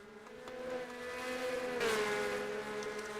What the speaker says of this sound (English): Formula 3 cars or they sound like go-karts.